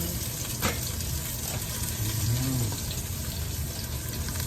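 Ingredients for seafood sinigang sauté in a pan, giving a steady close sizzle and frying hiss with light stirring scrapes and no talking.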